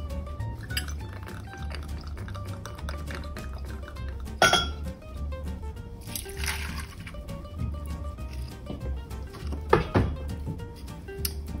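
Glass clinks as vodka is poured over crushed ice for a Moscow Mule: faint scattered clinks and a couple of sharper knocks over a steady low hum, with little talk.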